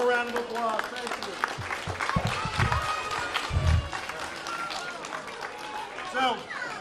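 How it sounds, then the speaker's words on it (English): A live audience at a children's science show gives a round of applause, a busy crackle of clapping with a few low thumps. Talk runs over the clapping. "Let's give him a round of applause"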